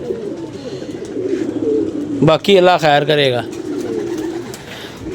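Pigeons coo in low, repeated murmurs throughout, with a voice speaking over them partway through.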